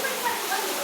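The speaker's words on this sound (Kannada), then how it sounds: "ಮಳೆ ನೋಡು ಹೆಂಗೆ ಬರ್ತಾ ಇದೆ ಜೋರಾಗಿ" Heavy rain pours steadily during a pilgrimage trip to Tirupati, a dense continuous hiss of falling water close by with no break across the short stretch.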